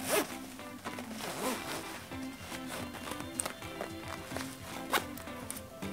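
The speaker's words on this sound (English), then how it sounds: "you can just zip them up like this" A zipper is drawn shut around a compression packing cube, a quick run of close ratcheting zips and tugs repeating over several seconds.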